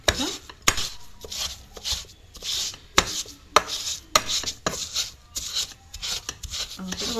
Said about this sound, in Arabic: لغايه ما اضيع الثوم خالص وافضل اهرس فيها كده